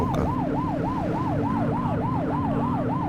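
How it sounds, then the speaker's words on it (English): A police car siren in The Precinct video game wails, sweeping up and down in a fast, regular cycle over a steady engine drone, loud and continuous. "You're only meant to use the siren in emergencies."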